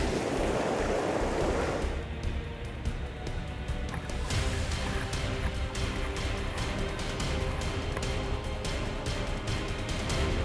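Ocean surf washing and churning close by, a continuous rough roar of waves with gusty wind buffeting the microphone throughout.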